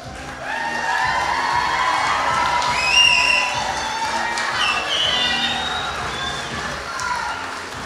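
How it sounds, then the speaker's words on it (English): Guests at a Bury College graduation ceremony cheer and applaud their graduates, a sustained loud mix of clapping, whoops and shouts filling a large hall for several seconds. "please remain standing and applaud your graduates."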